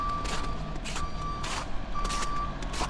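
A truck clearing snow on a winter street in Stockholm sounds a steady, loud series of reversing beeps, about one per second, over a rumbling engine and road noise.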